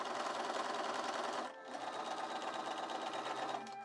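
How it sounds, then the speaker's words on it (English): A sewing machine runs long gathering stitches on fabric for an 1830s dress. It makes a steady, close mechanical whir with a brief dip near the middle before it keeps running. "sewed long gathering stitches along those lines using my sewing machine"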